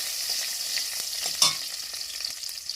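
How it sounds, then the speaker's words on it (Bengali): Whole garlic cloves frying in a pan: a steady, soft sizzle with faint crackles and one brief louder spit from stirring, with no voices. "আদা দিয়ে আমি হালকা ভেজে নেব"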